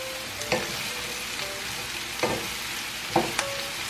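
Squash, chiles and garlic fry in a pan with a steady sizzle, broken by a few sharp stirring clinks, close up and with no voices.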